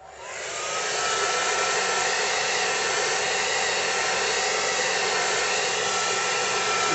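A heat gun heat-setting a homemade stencil ramps up within the first second, then holds a loud, steady, breathy blowing roar for the rest of the clip.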